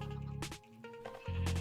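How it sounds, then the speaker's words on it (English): Sheep bleating in the Minecraft video game on a sheep farm, with a couple of short, nasal game bleats over a low steady background hum and no speech. "There we are. Sheep farm."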